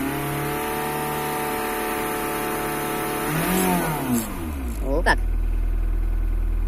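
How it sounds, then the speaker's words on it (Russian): A Ford Mondeo Mk4 2.0 TDCi diesel with a DPF problem revs up from idle, the engine pitch sweeping up and falling back, then revving again sharply near the end, with someone speaking briefly over it. "жму тапку, буду сейчас газовать, и будем наблюдать"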